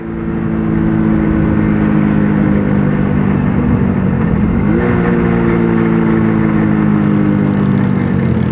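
A car engine revs hard and holds a loud, sustained drone for several seconds, then briefly drops and climbs again in pitch before settling, heard close and continuous without talk.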